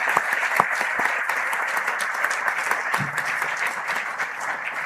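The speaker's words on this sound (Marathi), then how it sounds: "आपण खूप जोरदार टाळ्या वाजवल्या पाहिजे" Crowd at a political speech claps in steady, loud, dense applause that carries on throughout with no talk over it.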